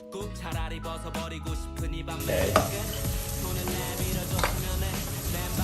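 Garlic and chili frying in a hot pan for a Thai pad sator stir-fry, a bright continuous sizzle that swells suddenly and is stirred with occasional scraping clatters, close by.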